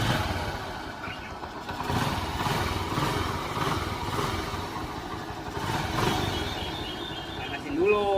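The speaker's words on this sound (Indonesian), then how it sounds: "kalau pagi-pagi supaya tokcer ini motor kita panasin dulu" Old motorcycle engine warming up in the morning at a house yard, a steady uneven putter and rattle of idling that continues throughout at close range, with a short revving rise near the end.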